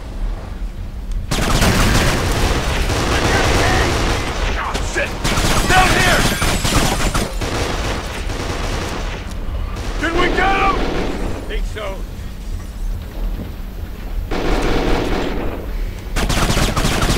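Gunfire in the video game Kane & Lynch 2: Dog Days, dense continuous shooting and bursts that fill the whole stretch at high loudness, with voices talking underneath in places.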